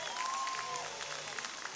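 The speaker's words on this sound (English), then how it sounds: "Crowd gets applause out of that." Crowd at a Sussex County Miners baseball game breaking into brief applause after a manager's home-plate protest, moderate scattered clapping with a voice talking over it.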